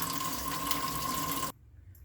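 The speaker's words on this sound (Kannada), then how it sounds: "ಇದೇ ರೀತಿ ಎಲ್ಲ ಪಾತ್ರೆನ ಹೀಗೆ ನೀಟಾಗಿ ತೊಳ್ಕೊಳ್ಳೋಣ" Tap water runs steadily into a kitchen sink while pots are washed, a dense continuous splash that cuts off abruptly near the end, leaving near silence.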